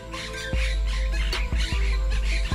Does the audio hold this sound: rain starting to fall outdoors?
no